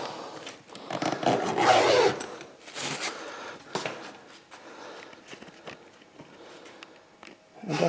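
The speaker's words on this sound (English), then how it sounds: "ahead and unzip this thing" A zipper on a worm composting bag in a garage is pulled open, giving a raspy zipping run near the start followed by scattered rustling, scraping and handling sounds, fairly close and moderately quiet.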